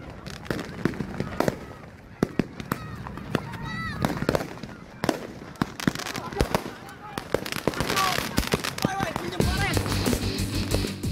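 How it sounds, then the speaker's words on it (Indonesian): Repeated sharp firecracker bangs pop irregularly in an open empty lot during a firecracker fight between two youth groups, some near and loud, others farther off, while people shout and talk amid the barrage. "tawuran perang petasan di sebuah lahan kosong"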